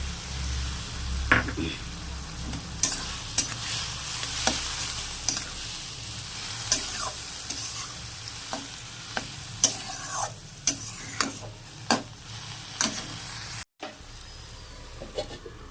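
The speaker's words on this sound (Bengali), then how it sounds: "আবারও ভালো মতো নেড়ে চেড়ে নেব" Dhekir shak, fiddlehead fern greens, stirred in a pan over a low sizzle, with regular sharp scraping taps of the spatula against metal, close by; a brief near-silent gap comes near the end.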